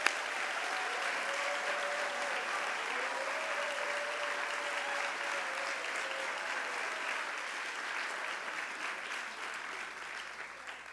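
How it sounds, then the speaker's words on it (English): Audience at a university convocation ceremony applauding faculty being recognized, sustained steady clapping from a large hall crowd, fairly distant, with a faint tonal hum underneath, tapering slightly at the end. "Let's give them a round of applause."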